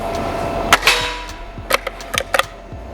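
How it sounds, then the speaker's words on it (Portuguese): A Rossi Dione Sport air rifle carbine fires a single sharp shot, near and loud, followed by a few faint clicks and knocks from handling. "Segundo disparo."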